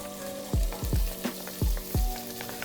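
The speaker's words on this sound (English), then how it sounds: "I'm gonna add my onions to the butter" Onions sizzling as they go into hot melted butter in a pot, a steady close fry broken by several low thumps and knocks at irregular intervals, with no talking.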